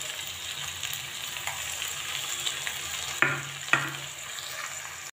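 Cauliflower and potatoes frying in a pan as poppy seed is added, giving a moderate sizzle with stirring and two sharp utensil clatters close together near the end.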